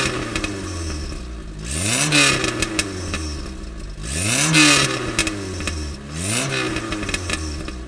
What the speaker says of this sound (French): je vais vous faire voir comment le bruit est quand je l'accélère un peu